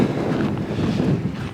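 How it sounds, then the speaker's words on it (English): Gusty wind buffets the microphone on a mountain trail, a close, rough rumble that swells and dips for a moment, with no voices. "It's windy."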